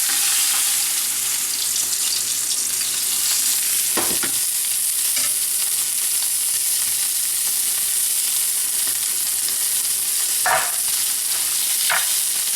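A rack of lamb sears in a pan with a loud, continuous close-up sizzle and spitting fat, plus a few sharp clinks of a utensil against the pan near the middle and end.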